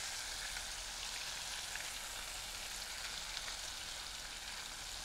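Halloumi cheese slices sizzle and fry in a pan after being flipped, a steady, dense crackling hiss that holds evenly throughout with no talking.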